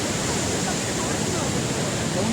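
Pepper Falls, a waterfall in Kodaikanal, roars as a loud, continuous broadband rush of falling water that fully fills the surroundings, steady and close.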